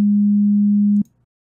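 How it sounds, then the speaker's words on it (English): A steady low sine test tone plays through a mixer track for about one second, loud and alone, then cuts off abruptly. "we can hear the test tone play."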